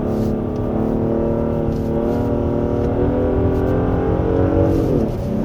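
Genesis G80 3.5 turbo AWD on a winding road, engine humming steadily with tyre and road noise, pitch sliding up and down through corners and rising toward the end, close and continuous.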